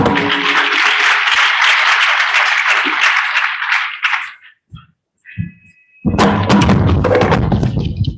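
A hall audience at an International Migrant Day event bursts into loud, dense applause that fades out, leaving a brief lull of a few thumps before another strong round of clapping starts up.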